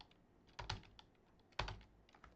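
Keys tapped on a computer keyboard while entering a drafting-software shortcut: two short clusters of crisp, close clicks about a second apart, with quieter taps in between and no voices.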